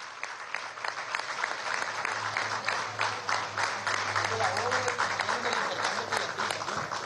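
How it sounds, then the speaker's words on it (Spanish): Sustained applause for high school students at a televised government event on school repairs, a dense steady crowd clapping that carries for the full length, with a low hum beneath it. "vamos a dar un aplauso a nuestros estudiantes del liceo"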